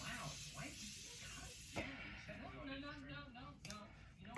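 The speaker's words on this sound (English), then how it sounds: "So now I'm gonna spray my face real quick" A soft hiss of setting spray misting onto a face in short bursts, close by, with a voice talking over part of it.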